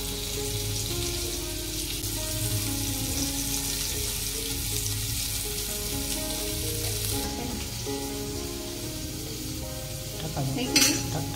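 Prawns fry in a large pan with a little oil, giving a continuous loud sizzle and crackle that runs steadily throughout, with faint stirring near the end and no talk.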